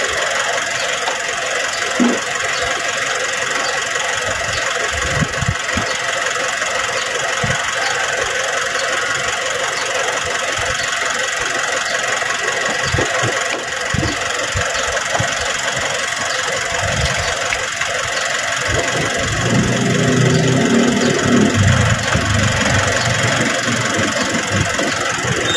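An engine runs steadily throughout, idling with a rough, knocking rumble and occasional squeals and clatter nearby.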